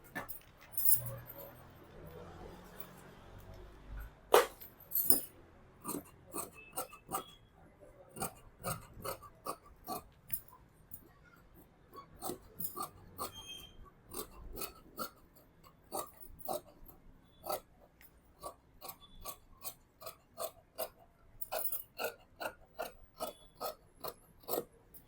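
Scissors snip repeatedly through kurti fabric laid over canvas, a string of sharp, crisp cuts close by in irregular bursts with pauses between, fairly quiet overall with soft background noise.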